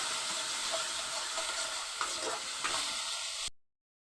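Spices with salt and turmeric being stirred in a hot pan for khichuri, giving an even close sizzle and hiss with soft scraping strokes, alone without talk, cutting off abruptly near the end.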